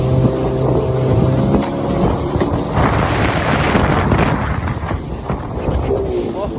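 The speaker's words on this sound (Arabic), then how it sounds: "هل سبق لك أن رأيت قارب يمشي بهذه السرعة لدرجة أنه بدأ في" A speedboat races fast across the water with a steady, loud engine roar, spray and heavy wind buffeting the microphone close up, and a voice speaks briefly over it.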